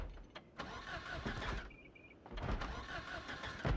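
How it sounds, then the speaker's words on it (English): A hotwired car in the survival game Project Zomboid cranks with a rough churning starter, pauses briefly, then catches and runs in a mid-pitched engine rumble, close and fairly loud. "We find a car, hotwire it, and make our way back to the old cut."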